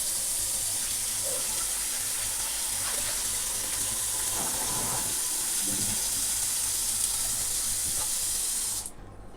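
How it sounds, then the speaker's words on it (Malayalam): Water from a pot of boiled crabs pours out in a steady, hissing, splashing stream, close and continuous, stopping abruptly near the end; no voices. "ആദ്യം നമുക്ക് ഇതിനകത്ത് വെള്ളം അങ്ങ് കളയാം"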